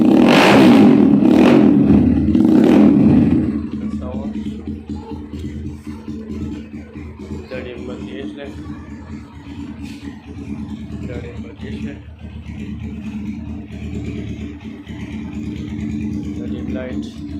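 A Kawasaki Ninja 350cc replica motorcycle engine revs loudly and roughly for the first few seconds, then settles into a steady idle rumble.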